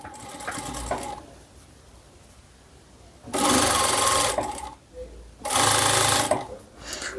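A sewing machine stitches tape onto the neckline of a knit blouse in two loud, steady bursts of whirring stitching, separated by a quieter pause with faint handling.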